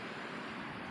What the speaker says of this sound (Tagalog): Ang ilog.